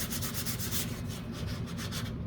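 Sandpaper rubbed by hand over a surface during paint prep on an H9 P-51 model, several quick rasping back-and-forth strokes, close and fairly loud, with no talking.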